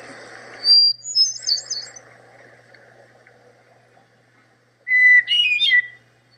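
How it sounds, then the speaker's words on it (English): A sparrow sings in short bursts of high chirps and trills, one phrase early and another near the end, separated by quieter warbling over faint low background hum. "There's the sparrow."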